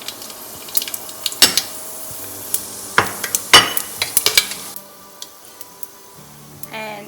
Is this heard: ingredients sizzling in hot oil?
yes